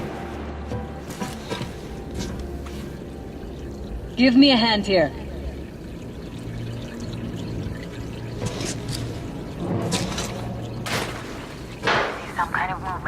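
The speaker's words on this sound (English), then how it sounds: "Oh, it's water droplets." Water drips and trickles in Metro: Last Light, soft and steady beneath in-game voices and background rumble.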